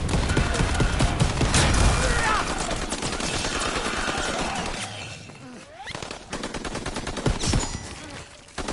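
Rapid automatic gunfire fills a Call of Duty WWII firefight, loud and nearly continuous bursts of sharp cracks with a brief lull midway before the shooting resumes.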